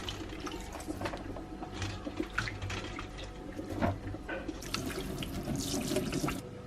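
Broccoli rinsed under a running kitchen tap, a steady close rush and splash of water filling the sink with no voices.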